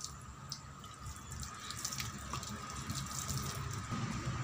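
Running water rinses a stove grate at close range, a steady splashing stream pouring over metal for several seconds, gradually growing a little fuller, with no talk.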